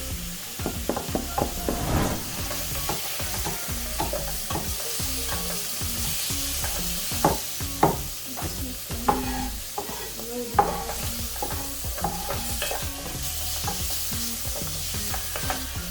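Squid and spring onion stir-fry in a hot pan, with a constant sizzle broken by frequent clacking scrapes of the spatula in an uneven rhythm, close and fairly loud with no voices.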